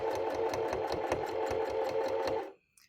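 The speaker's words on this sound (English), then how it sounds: "So all I have to do now is start to sew." Sewing machine stitching fabric for free motion quilting, a loud close rapid needle chatter with a steady motor whir that runs for about two and a half seconds, then stops abruptly, followed by a faint click.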